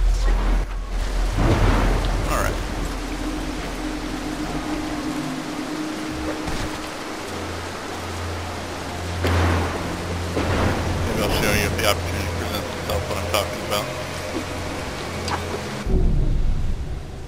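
A thunderstorm in the stealth video game Mark of the Ninja: steady rain hiss runs throughout, broken by a few loud deep thunder rumbles and crackling strikes, one early and more near the middle and end, with no talking.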